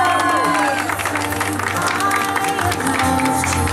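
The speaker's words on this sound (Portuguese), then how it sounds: "Uma salva de palmas à nossa homenageada" Loud crowd applause with clapping and some cheering at a birthday party, sustained throughout, with voices mixed in.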